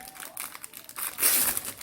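A plastic bag being opened, bursts of crisp crinkling and rustling that swell near the end, close and fairly loud with no talk.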